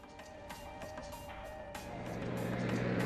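A car engine hums steadily in Trails of Cold Steel 2, punctuated by repeated clicks and knocks, with the rumble slowly swelling louder toward the end.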